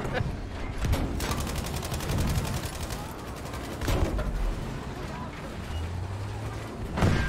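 Machine gun fire in the World War II shooter Battlefield V: rapid bursts of automatic gunfire with sharp heavier shots in between, mixed with engine rumble and battle noise throughout.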